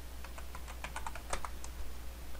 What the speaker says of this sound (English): So type in the password again,